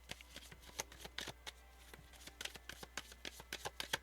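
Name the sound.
drawing and shuffling tarot cards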